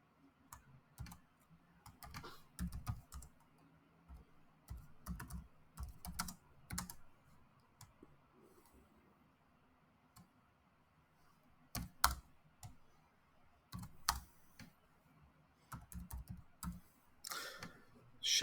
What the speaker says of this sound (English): there's a little debug code that I could type right here just to check it out